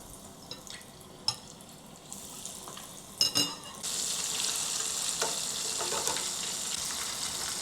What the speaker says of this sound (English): Now we put the prawn into the oil.